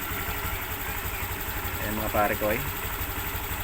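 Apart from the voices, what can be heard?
Honda Click v2 scooter engine idling with battery removed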